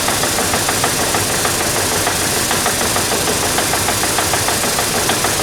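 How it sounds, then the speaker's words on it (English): A diesel engine knocks hard and continuously while running an intake system cleaning product fed with fuel through the injectors, a rapid, even, metallic rattle heard up close and loud, with no talk. "An increase in diesel knock is obvious."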